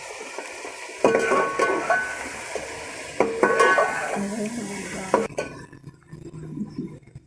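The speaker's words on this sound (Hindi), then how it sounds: "साथ साथ हिलाते जाएं ताकि हंडियाँ नीचे ना लग जाए" Utensil stirring yakhni pulao masala with tomato, onion and green chilies in a cooking pot, scraping and clinking in several bursts over a soft sizzle, fading to quieter frying toward the end.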